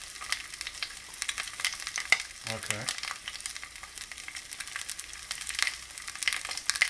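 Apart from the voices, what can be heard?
Beyond Meat frozen burger patties frying in a skillet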